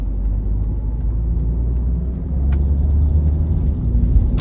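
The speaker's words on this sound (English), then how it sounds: "So now let's see if it shifts into 2nd gear, 3rd gear, and 4th gear." A high-mileage car with a four-speed automatic transmission drives along, its engine a steady low rumble that swells partway through as the gearbox upshifts, with a faint regular ticking above it.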